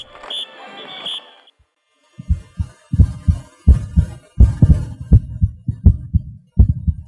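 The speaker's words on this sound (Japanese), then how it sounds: "映像の効果音に体験者の心臓の鼓動を重ね合わせるものです" A person's own strong, steady heartbeat thumps in paired beats, layered over a short burst of higher electronic video effects, continuing rhythmically without speech.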